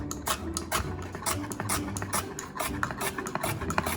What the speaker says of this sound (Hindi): शिमला मिर्च स्वीट रेड पेपर ली है, ताकि कलरफुल सा लगे, तो वो मैं थोड़ी सी बारीक बारीक चॉप कर लूँगी